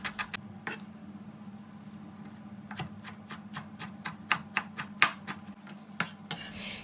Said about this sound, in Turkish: Bir tane havucunuzu da rendeleyin.